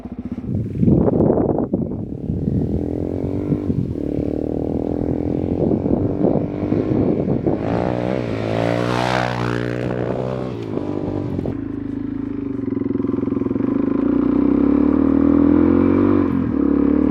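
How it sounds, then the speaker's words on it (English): A Suzuki DRZ400SM motorcycle rides along a road, its single-cylinder engine loud and close, revving up through the gears with a rising whine midway, then settling into a steady drone. "let's get back on the road, hit some gravel roads and ride in and around town"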